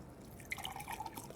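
Cold water runs from a tap into small containers, with soft drips and splashes rising in the second half of a short, close, moderately quiet stretch.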